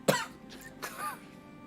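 A single sharp cough bursts out near and loud, followed by a couple of softer, raspy throat-clearing hacks that trail off.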